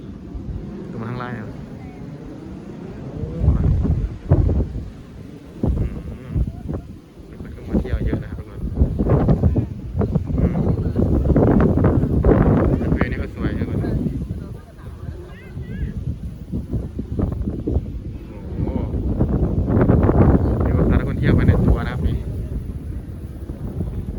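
Loud wind roars and buffets against the microphone in strong, surging gusts that swell and ease over time, with people talking under the rumble.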